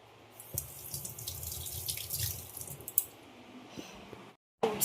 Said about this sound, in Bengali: এই যে এটা ওর ব্রাশ আগে ধুয়ে নিই তারপর কলগেট দেবো